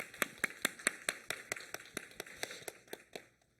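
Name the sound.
church congregation applause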